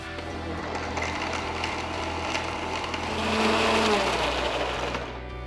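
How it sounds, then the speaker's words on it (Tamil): A blender whirs steadily as it blends boiled and cooled milk, saffron milk and ice cubes. The loud motor drone holds throughout and swells briefly near the end. "1 கப் காய்ச்சி ஆற வச்ச பால், 1 கப் குங்குமப்பூ பால், கொஞ்சம் ஐஸ் கியூப் சேர்த்து நல்லா பிளெண்ட் பண்ணி எடுத்துக்கலாம்"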